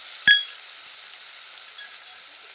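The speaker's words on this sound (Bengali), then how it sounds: "এগুলো ভালো করে কষিয়ে নেব একটু নেড়ে চেড়ে নিয়েছি মশলাগুলো" A paste of ground onion, garlic, ginger and tomato sizzles in a pan with a low, steady hiss, broken early by a single sharp clink of the stirring spoon against the pan.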